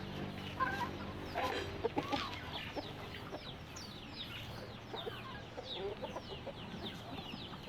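Native chickens cluck and chirp steadily in a busy farmyard, several birds calling at once with a few sharper squawks, no talking.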